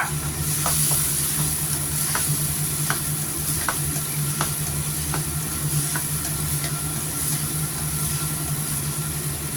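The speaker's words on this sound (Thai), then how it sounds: "น้ำมันงานิดนึงซีอิ๊วมายาว ผัดเลยจ้า" Hot oil with sesame oil and soy sauce sizzles steadily in a pan while a utensil scrapes and taps in a regular rhythm, a close, continuous stir-fry with a low background hum.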